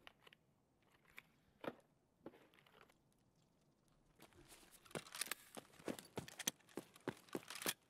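A character in Escape from Tarkov eats a tub of mayonnaise, a quiet run of wet chewing and biting clicks that grows busier and louder toward the end.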